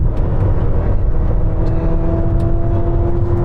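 A Ferrari SF90 and a BMW M1000RR make a roll-on drag run from 50 mph in third gear, heard as a loud, steady engine drone with a sustained tonal whine that holds for the whole stretch, with no voices.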